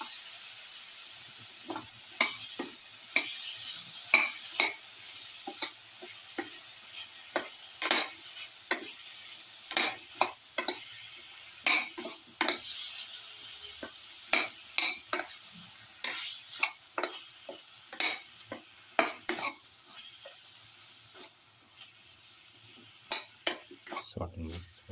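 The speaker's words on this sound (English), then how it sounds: "Thoroughly saute and mix in the casserole." Tomato paste sautéed in a casserole pot gives a low background sizzle, punctuated by frequent sharp scrapes and clinks of a utensil stirring against the pot throughout.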